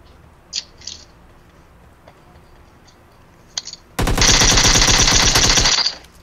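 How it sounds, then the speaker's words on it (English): Automatic gunfire erupts in a first-person shooter video game. After a few faint clicks and footsteps, a loud, rapid burst of gunfire lasts about two seconds and then cuts off. "See, someone shooting you again."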